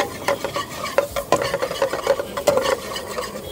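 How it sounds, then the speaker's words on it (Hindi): Butter and masala sizzle in a hot pan for an omelette while a spatula stirs and scrapes with repeated clattering strokes, close and fairly loud. "भर भर के ऊपर से ये मक्खन तड़का आ गया इसके अंदर मसाले के साथ"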